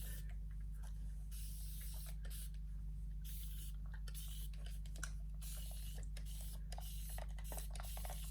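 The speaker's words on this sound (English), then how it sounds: "Let me spray my hair." Repeated hissing bursts of hairspray from an aerosol can, close by, some short and some longer, over a steady low electrical hum.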